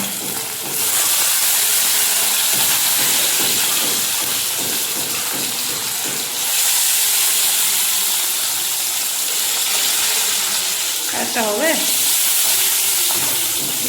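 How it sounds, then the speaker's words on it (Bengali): Fish pieces fry in oil in a small kadai with a loud, steady close-up sizzle throughout, swelling in bursts; a voice speaks briefly near the end. "চলো মাছগুলো ভেজে নিই ছোটো কড়াইটা ভরিয়েছি"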